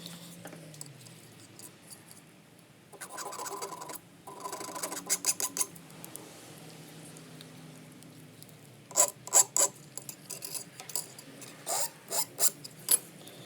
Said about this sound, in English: Looks like we might have a burr now. So let's file this off.